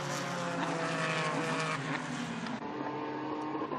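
Ligier race cars battle wheel to wheel at the Portimão circuit, engines revving loudly in a continuous, layered whine. The pitch shifts as the cars pass, with a brief dip midway.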